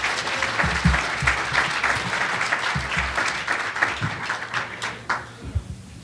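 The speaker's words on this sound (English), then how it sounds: "please give a warm round of applause for Dr." An audience at a medical cannabis conference gives a warm round of applause, a dense wash of clapping with a few nearby claps standing out, which thins and fades over about six seconds.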